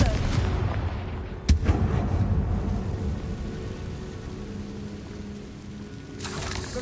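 A Confringo blasting spell is cast in the Hogwarts Legacy video game, a single sharp, loud blast followed by a rumbling decay under game ambience, with a fainter whoosh near the end.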